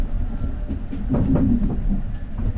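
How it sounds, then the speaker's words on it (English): A passenger train rolls along the rails into Norwich, giving a steady close rumble with faint clicks and rattles throughout, and no talking. "Made it to the right train."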